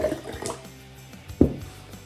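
Water poured from a height during an indoor Christmas game challenge, heard as a few short splashy pours and one sharper splash, fairly close and alone without talk.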